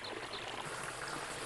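Water flowing along a falaj irrigation channel in Oman, heard as a steady, close rush of running water that continues unbroken with no voices.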